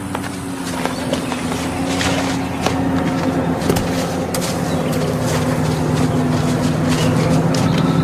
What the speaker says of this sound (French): un bruit de moteur à midi